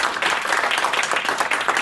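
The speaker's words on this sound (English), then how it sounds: "A round of applause for our panel." Applause from the audience for a government contracting business development panel at a business expo, a steady dense wash of many hands clapping, near and continuous, with no talk.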